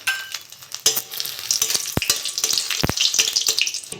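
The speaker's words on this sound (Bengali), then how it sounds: "তেলটা গরম হয়ে গেছে, কটা লঙ্কা ভেজে নেব।" Green chillies frying in hot mustard oil in a kadai, a steady close crackling sizzle with sharp pops and a few brief stirring clatters, no voices.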